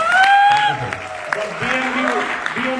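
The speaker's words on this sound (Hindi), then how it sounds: "एक बार जोरदार तालियां हो जाए" Brief applause from an audience at a Vestige business event honouring a BMW achiever, a short steady burst with overlapping talk and a sustained tone at the start.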